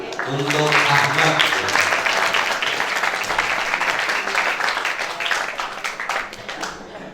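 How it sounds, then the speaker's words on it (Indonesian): An audience at a Ramadan Islamic boarding-school program applauds, a loud burst of many hands clapping that starts strong and slowly thins out, with a few voices speaking over the start. "tepuk tangan untuk Ahmad"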